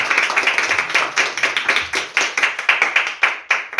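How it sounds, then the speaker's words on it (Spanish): A church congregation claps hands in a steady rhythmic beat, with many sharp, closely spaced claps at a fairly loud level, and no talk over them. "dale palmas si quieres darle la gloria al Rey de Reyes"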